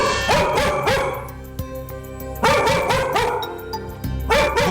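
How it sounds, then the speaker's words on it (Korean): A dog barks aggressively and repeatedly in loud, harsh bursts with short pauses between them, close to the listener and with no talk over it. "보호자를 등지고 아까보다 더 과격하게 짖는 녀석"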